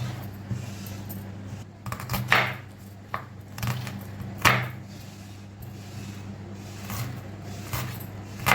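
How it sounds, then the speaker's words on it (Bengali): Onion finely chopped with a knife while making pasta with radish greens. Sparse, light knife taps come at irregular intervals over a steady low background hum, with no talking. "এবার পেঁয়াজটাও এইভাবে কুচি কুচি করে কেটে নেব"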